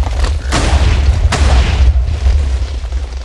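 Bomb gem going off in the Minecraft Miners Deluxe mod, a loud, heavy game explosion with a deep rumbling boom and a second sharp blast shortly after, the low roar sustained throughout.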